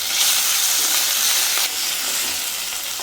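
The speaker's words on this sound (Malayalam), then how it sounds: "നമുക്കപ്പോഴത്തേക്ക് 1 സ്പൂൺ ഇഞ്ചി ഇതിലേക്ക് ഇട്ട് കൊടുക്കാം" Chopped ginger dropped into hot oil for garlic chicken, giving a loud, steady frying sizzle with broad hiss throughout that dips slightly partway through, with no voices.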